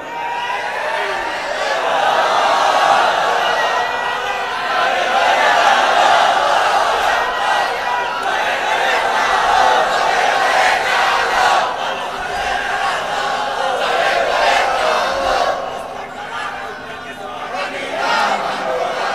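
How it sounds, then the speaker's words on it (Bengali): A large crowd at an Islamic sermon gathering in Bangladesh shouts loud, sustained communal chants with a dip near the end, dense massed voices filling the space. "এই তাকবীর তাকবীর দাও তো, জোরে দাও, জোরে দাও, তাকবীর দাও"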